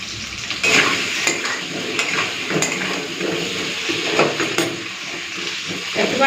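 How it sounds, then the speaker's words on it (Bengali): Pieces of taro and potato fry in oil, a close, continuous sizzle with repeated scraping and clattering of a utensil stirring them in the pan. "তো এখন এই গাঁঠি কচু আর আলুটাকে ভেজে নেব এগুলোকে একটুখানি হালকা ভেজে নিতে হবে"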